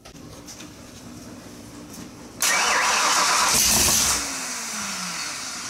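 A 1966 Pontiac GTO with a 461 stroker engine cranks on a dyno, falling quiet in the room before the engine catches and roars loudly at close range, then settles into a steady, slightly quieter idle.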